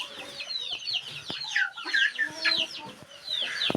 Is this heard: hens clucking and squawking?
yes